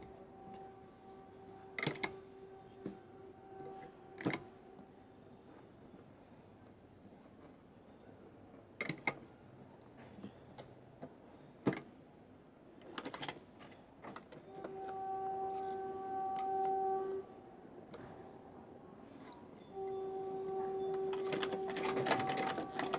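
An electric sewing machine stitches a seam on baby underpants, with short whirring bursts broken by pauses, then longer steady runs of humming stitching, close and moderately quiet.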